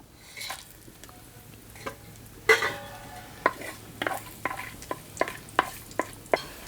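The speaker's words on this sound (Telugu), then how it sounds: "రెండు బిర్యానీ ఆకు రెండు ఇంచులు దాల్చిన చెక్క నాలుగు ఇలాచి నాలుగు లవంగాలు నూనె వేడెక్కగానే వేసేసుకుందాం" Whole bay leaves, cinnamon, cardamom and cloves fry in hot oil for a Hyderabadi mutton dalcha, a low sizzle broken by a run of sharp spoon clinks against the pan, close and without speech.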